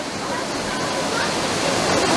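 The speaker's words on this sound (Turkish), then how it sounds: "Ve şelale bu." Düden Waterfall in Kepez, Antalya pours with a steady, dense roar of rushing water, close and loud, unbroken by any other sound and swelling slightly toward the end.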